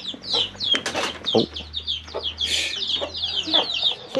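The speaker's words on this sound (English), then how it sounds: "Chicken." Chickens in a traditional Bajawa village in Indonesia cluck and flap their wings close by, with busy overlapping calls and flutters and a short spoken exclamation.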